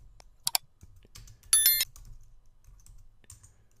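A terminal command typed on a computer keyboard: scattered, crisp key clicks close by, with one brief, louder burst of rapid keystrokes in the middle and quiet gaps between presses.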